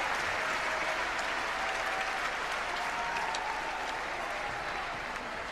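Sustained, dense applause from a tennis crowd fills the stands during a Pete Sampras versus John McEnroe match, a steady, loud wash of clapping that holds at an even level throughout, with no voices rising above it.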